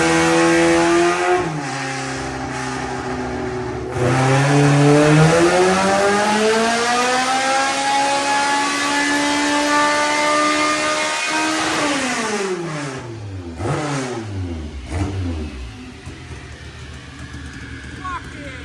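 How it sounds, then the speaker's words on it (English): A loud K24 car engine revs hard on a dyno and climbs steadily in pitch, then drops and surges in several quick bursts before settling. "There's a car on the dyno now."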